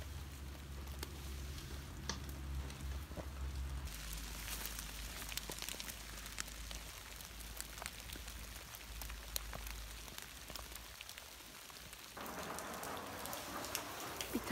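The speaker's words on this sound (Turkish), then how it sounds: "Yağmur da bayağı bir hızlandı." Steady rain falls outdoors, hissing broadly on surfaces, with soft drops pattering throughout; the downpour holds a constant loud wash for the whole stretch and thickens into a brighter, denser hiss near the end.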